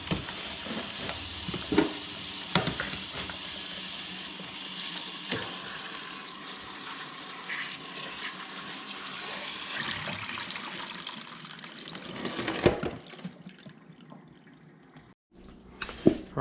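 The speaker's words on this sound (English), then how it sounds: "I do have some ice here. Stick those in, and some cold water." Ice and cold water are tipped over boiled sand fleas, giving a loud, steady splashing and trickling rush that fades into scattered drips and clatters near the end.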